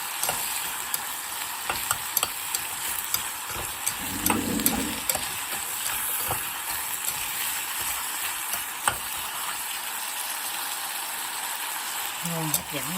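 Khô quẹt sauce stir-fries in a pan, a steady sizzle with scraping stir strokes and clicks from the utensil throughout, and a brief burst of louder low noise partway through.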